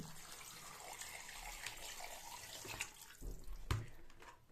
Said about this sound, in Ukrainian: І долию ще води. Води доливаю холодної, обов'язково.